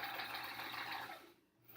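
A sewing machine stitches quilt blocks of fabric in a steady rapid mechanical whir up close, slowing and pausing briefly near the end before starting again.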